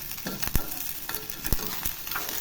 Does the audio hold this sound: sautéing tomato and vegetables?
yes